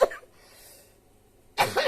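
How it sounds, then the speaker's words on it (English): A person with a sinus infection gives a sharp cough at the start, then after a quiet pause lets out a second, rougher bout of coughing, close up. "I've been coughing like that every now and then"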